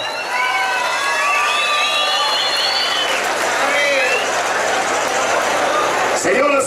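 Crowd at a bull riding tournament applauding and cheering loudly and steadily, with whistles and an announcer's voice over the noise.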